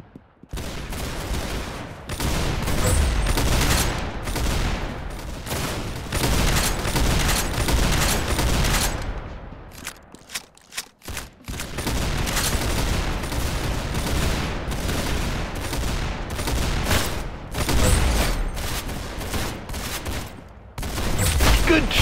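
Rapid, dense bursts of gunfire in the Arsenal game, with near-continuous volleys of shots, a brief lull midway, then heavy firing resumes, loud and close throughout.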